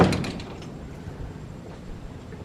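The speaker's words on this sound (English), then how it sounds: "So you exit out this really cool Dutch door" A Dutch door opens onto a backyard: a rattling, scraping swing at the start, followed by a quieter stretch of room noise.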